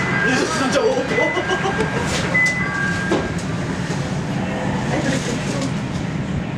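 A Chicago CTA Blue Line L train heads toward O'Hare, rumbling and clattering steadily on the tracks from inside the car, while an automated announcement voice speaks over the noise.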